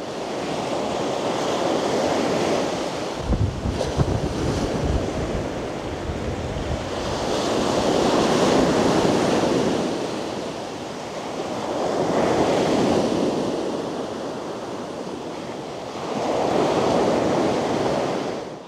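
Ocean surf at Koura beach in Chiba rolls in as repeated swelling washes of waves, loud and close, alternating with brief lulls, with wind buffeting the microphone and no voices.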